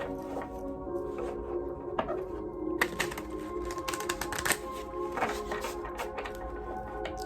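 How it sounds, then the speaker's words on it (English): Close up, a deck of tarot cards is shuffled by hand with rapid, crisp riffling clicks and taps in uneven bursts. No voices are heard. "And just gonna get one more shuffle in."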